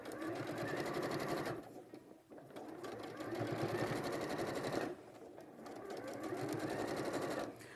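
Sewing machine stitching a seam through fabric and fusible foam, loud close whirring bursts with fast rhythmic needle chatter, three runs separated by short pauses.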